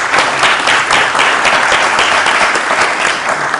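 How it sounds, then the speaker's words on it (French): Audience at a round-table panel at the ENA in Meknès applauds the speakers, a dense, steady burst of many hands clapping together, loud and close, with no talk over it. "Je vais vous demander tous d'applaudir nos intervenants, s'il vous plaît."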